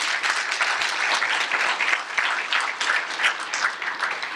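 An audience at a tech lightning-talk event applauds the first speaker, dense steady clapping from a full room that carries on evenly throughout.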